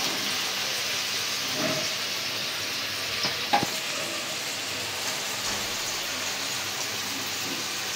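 Ground chili, coriander and cumin with salt and ginger-garlic paste sauté in a hot pan, a steady close sizzle and frying hiss with stirring, running evenly throughout with one brief louder scrape midway.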